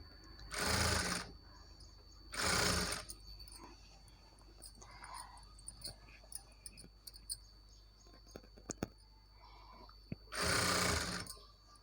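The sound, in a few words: sewing machine stitching a readymade blouse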